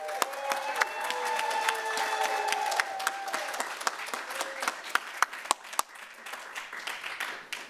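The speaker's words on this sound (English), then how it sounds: "Let us all give a rousing applause for these graduates." Rousing audience applause for new graduates at a university commencement and hooding ceremony, steady crowd clapping with sharp individual claps throughout, gradually thinning out near the end.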